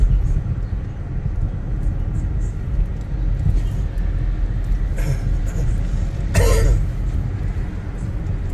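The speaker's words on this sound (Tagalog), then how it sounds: "Yan nga, ubo mo hindi nawawala." A person coughs in a few short bursts around the middle of the clip, heard over a steady road rumble inside a moving car on a road trip, with faint talk nearby.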